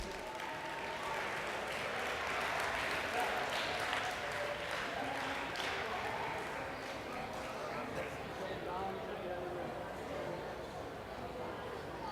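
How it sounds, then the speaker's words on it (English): Applause from the audience at a school sports banquet honouring young sportsmen, a dense steady patter of many hands lasting throughout, with a murmur of crowd voices mixed in. "Can we give them one big round of applause, please?"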